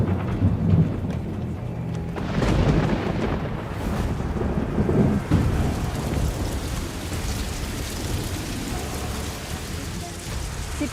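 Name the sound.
thunderstorm with hail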